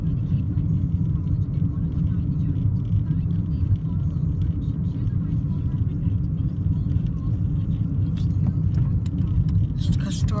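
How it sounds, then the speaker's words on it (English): A car cruising along on a drive, giving a steady, continuous low engine and road rumble that stays fairly loud and even throughout, with no voices over it. "Just out for a little drive."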